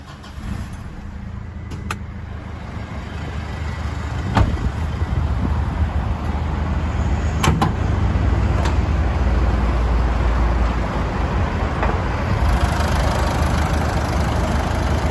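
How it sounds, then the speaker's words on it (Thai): A few clicks, then a 2011 Mitsubishi Triton Plus Cab 2.5-litre diesel engine cranks and settles into a steady, low, rumbling idle that continues close by. "ผมขออนุญาต สตาร์ทเครื่องด้วยเลยนะครับผม จะได้ฟังเสียงเครื่องนะครับ"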